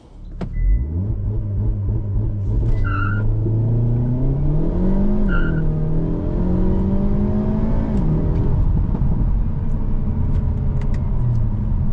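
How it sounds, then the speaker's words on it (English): A 2025 Hyundai Elantra N sedan with a dual-clutch transmission revs hard and pulls away using launch control, its rising drone shifting through gears as it accelerates, loud and close. "setting off now in the 2025 Elantra N. Launch control is pretty cool."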